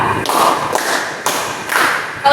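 Classroom clapping routine, 'clap four', led by a teacher during group guidance practice: four crisp, near hand claps in a steady rhythm, with no voices over them.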